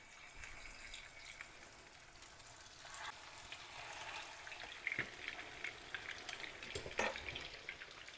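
Meat patties frying in a pan of oil, a soft continuous sizzle with scattered crackles and pops, heard up close and fairly quiet.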